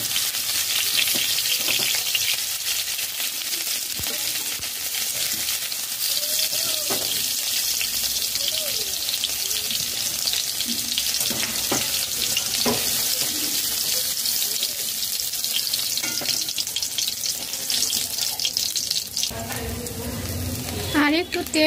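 Cauliflower florets frying in oil over a high flame, a steady loud sizzle running throughout with occasional clinks and scrapes of stirring, no voices.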